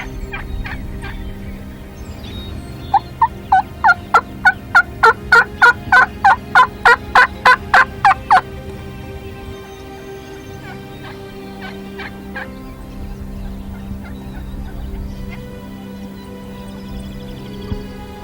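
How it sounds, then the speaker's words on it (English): Wild turkeys, several big gobblers near a decoy, gobble in a loud rapid rattling burst lasting several seconds, followed by a few fainter scattered calls over steady outdoor background noise. "there's about 5 or 6 big gobblers in there"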